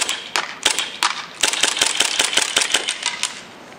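A KWA KMP9 airsoft gun fires a run of sharp semi-auto shots, about a dozen close, crisp snaps in an uneven rhythm until the magazine runs empty, with no talk.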